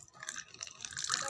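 Water dripping a few drops at a time onto a plant gives faint, scattered patters and splashes that stay soft and close throughout, with no voices.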